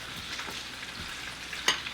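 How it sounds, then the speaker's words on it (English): Steady frying sizzle of chicken tenders in a pan, with a brief louder crackle near the end; no voices. "So I'm loading up my frying pan."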